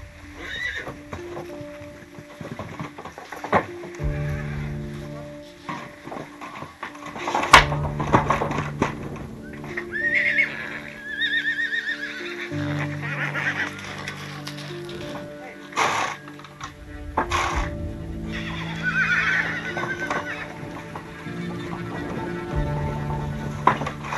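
A blood mare on an Icelandic farm neighs and whinnies repeatedly in distress, with hooves clopping and scraping amid shuffling and banging, loud and close throughout, while a voice speaks intermittently.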